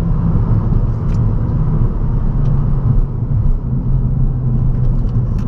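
Ford Fiesta with a 182 hp engine accelerating on the road, a steady loud engine rumble and road roar running throughout from inside the cabin.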